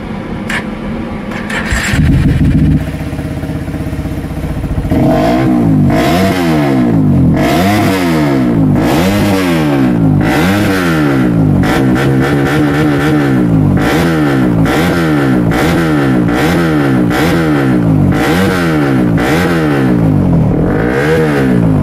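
Honda CRF motorcycle engine with a BRT 4-valve head and a noisy exhaust, loud and close, starting up and then revving again and again in a steady rising and falling rhythm, with no talking.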